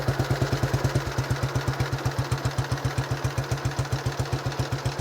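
A 1935 BSA Blue Star motorcycle engine idles close by with a steady, even single-cylinder thump, around ten beats per second.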